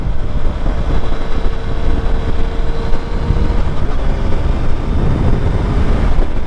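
A 2022 Suzuki Hayabusa ridden at speed, its engine roaring under heavy, steady wind rush that covers the whole stretch at constant loudness, close to the microphone.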